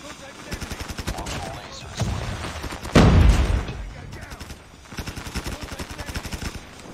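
Rapid automatic fire from a PP Bizon submachine gun in Call of Duty Mobile, sustained bursts with a louder blast near the middle, while a voice talks over the shooting.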